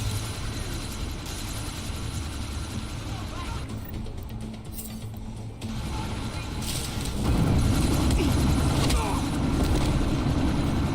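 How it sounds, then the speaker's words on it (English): A helicopter idles on the ground before takeoff, a steady whirring rotor drone that swells louder and rougher toward the end, with voices talking over it. "That chopper's about to take off."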